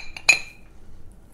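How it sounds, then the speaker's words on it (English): A skull-shaped ice cube dropped into a glass for a lavender rum Cuban Old Fashioned gives one sharp, bright clink up close, with a faint earlier tap and a short ringing decay into near silence. "I'm going to drop it in my glass."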